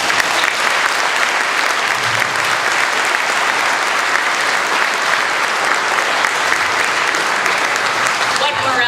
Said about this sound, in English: Applause for Joe Mel and everyone involved.